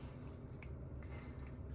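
Fresh mozzarella cheese curds being scooped out of warm whey, soft wet squishes and drips close up, faint and brief with no talking.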